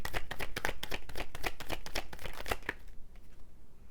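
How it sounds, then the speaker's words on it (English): Tarot cards are shuffled and drawn in quick, crisp riffling bursts that run steadily for nearly three seconds, then stop, leaving a quieter moment with a few faint slides. "Let me get one more card before I say anything else."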